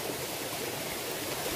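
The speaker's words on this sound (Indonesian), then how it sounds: "Dan ini air terjun indah." Singsing Kelesih waterfall in Bali, a tall falls with a smaller cascade and a green pool, gives a steady, dense broadband rush of falling water, loud and unbroken throughout with no voices.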